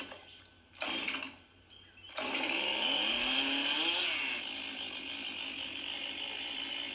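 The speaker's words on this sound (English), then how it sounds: "this is the style I made for it. It's a chainsaw" A chainsaw-blade style lightsaber sound font plays as a quiet, buzzing mechanical whir, with a short burst followed by a sustained rising hum that steadies into a continuous drone, alone.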